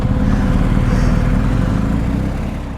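Loud, rough engine note of a Monkey Bike motorcycle running with its exhaust baffle missing, a dense throbbing rumble close by that dies down slightly toward the end.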